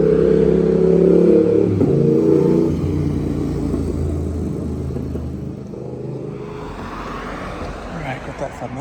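A car drives past on a suburban street at Five Dock, Sydney, its rumble loud at first and then fading as it moves away, with a voice talking over it.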